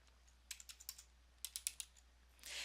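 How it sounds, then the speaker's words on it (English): Quiet keyboard typing on a computer keyboard during a word-processing lesson, two short bursts of soft rapid keystrokes separated by a pause, followed by a brief rustling swell, with no talk. "go to the subject area and type online learning"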